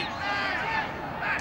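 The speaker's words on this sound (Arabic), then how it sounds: "الجماهير نادت باسم بلهندا طويلا" Stadium crowd at a Morocco versus Burkina Faso friendly football match chanting a player's name, a sustained dense roar of many voices swelling and easing over a second and a half.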